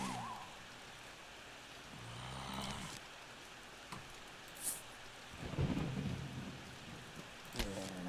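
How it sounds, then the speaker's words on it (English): A thunderstorm level in the video game Plants vs. Zombies, with steady rain hissing throughout. Brief thunder rumbles and cracks break in partway through, and the storm plays alone without voices. "now we have like a thunderstorm level where it's going to be pitch black here except when the lightning flashes"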